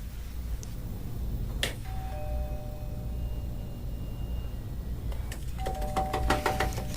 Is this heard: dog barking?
no